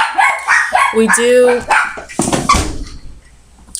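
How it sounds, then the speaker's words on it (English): Several dogs barking excitedly indoors, loud, rapid yaps and barks clustered close together, with someone talking over and between them. "my dogs are going crazy right now."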